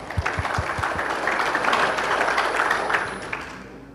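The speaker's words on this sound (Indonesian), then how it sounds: "Tepuk tangan" An audience applauds at a Pemuda Batak Bersatu inauguration ceremony in West Papua: a few distinct sharp claps at first, swelling into dense, even clapping that fades out at the end.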